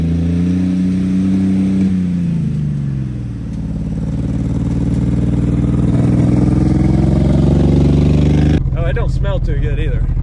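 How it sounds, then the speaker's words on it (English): An engine running on vodka instead of gasoline misfires on every cylinder, a loud, steady, rough drone that wavers in pitch, then cuts off abruptly near the end, where a voice is briefly heard. "it'd be saying every cylinder on this thing is misfiring severely"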